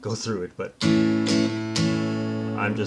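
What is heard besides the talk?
No everyday noise stands out behind the speech.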